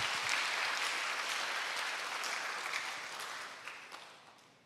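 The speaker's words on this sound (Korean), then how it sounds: "하나님께 영광의 박수를 올려드리겠습니다." A church congregation gives a round of applause during a Friday service, a dense clapping wash that starts full and gradually fades away, with a few lone claps trailing at the end.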